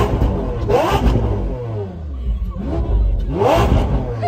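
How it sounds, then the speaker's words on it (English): A Lamborghini V12 engine revs up in a parked car, with rising and falling sweeps of roaring exhaust over a constant low rumble, two or three strong rev bursts close by. "I'm gonna rev it one more time for the sake of it."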